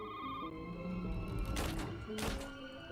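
A telephone rings in a horror game trailer, a brief trilling ring with dull thumps over a dark, droning low hum.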